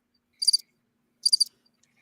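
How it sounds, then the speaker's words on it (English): Two short bursts of cricket chirping played as a sound effect, each a quick pulsed trill, loud and clean with silence between them. "He played the crickets, Money."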